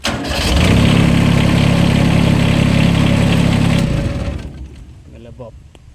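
A new-model engine that needs no glow-plug preheating, with oil-bath air filter and 20-litre fuel tank, idles with a steady low hum for several seconds close by, then cuts off and fades, leaving a voice speaking.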